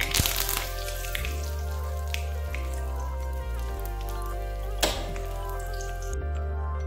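Curry leaves and mustard seeds fry in hot oil for a vegetable kuruma tempering, giving a steady close sizzle with scattered sharp pops beneath continuous background music.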